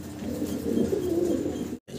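Roman gall pigeons, offered for sale in pairs, give a steady low cooing that runs close and moderately loud, then breaks off in a brief silent gap near the end before resuming.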